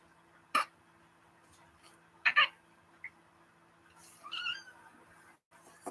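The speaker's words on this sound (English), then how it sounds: "Hey Tully, you want a kitty cat? It's hollering." A cat gives a few short, sharp meowing calls spaced a second or two apart, the last one longer and rising, clear but not loud against a quiet background.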